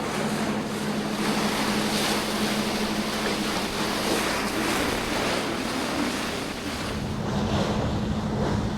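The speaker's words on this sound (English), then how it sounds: "we're getting a little salt water over the bow" Salt water splashes over the bow of a Nordhavn 50 trawler under way off the Maine coast, a continuous loud wash of spray and surf mixed with wind buffeting and a low steady engine hum.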